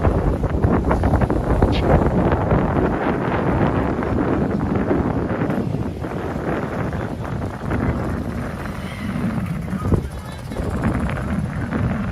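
Strong wind buffets the microphone in heavy gusty roars on a beach in Cartagena, Colombia, with voices talking underneath.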